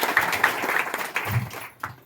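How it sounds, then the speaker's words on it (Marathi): Clapping crowd welcomes a young woman from Khed recruited into the Indian Army, giving a short burst of mixed applause at a celebratory procession that thins out toward the end. "आपण सर्वांनी तिथे जोरदार टाळ्या स्वागत करूया"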